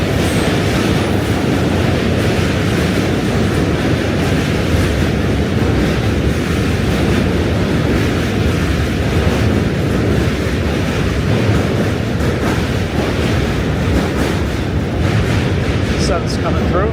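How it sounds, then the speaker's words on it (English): A New York City train rumbles past in a steady, dense roar that holds loud throughout, with faint rattling and clacking over the low drone. "Another train, and train."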